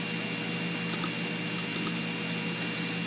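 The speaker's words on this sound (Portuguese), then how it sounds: "Vou dar um enter aqui para o cursor descer duas linhas" Enter key pressed twice on a computer keyboard, each press a pair of short, faint clicks spaced apart over a steady background hiss.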